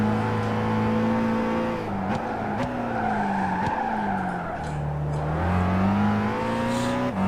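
A racing car engine in Gran Turismo 5 at the Nürburgring drones and shifts pitch steadily, with brief tyre skids and revs between gear changes, loud and continuous without any voices.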